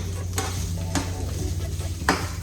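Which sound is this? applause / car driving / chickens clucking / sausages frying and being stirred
sausages frying and being stirred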